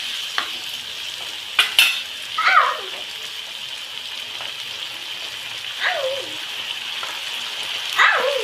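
Green chili sauce and soy sauce are stirred into paneer chilli in a sizzling pan. The spoon scrapes in a few distinct strokes over a steady frying hiss.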